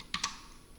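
Typing on a computer keyboard, with two quick clustered keystrokes close and clear, followed by quiet room tone.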